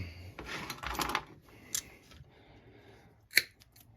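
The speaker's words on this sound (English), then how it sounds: "snip the end of it" Scissors snipping the end of a rope on a Stihl BR600 backpack blower during service, heard as a few close, crisp cuts and clicks, with one sharp snip standing out near the end.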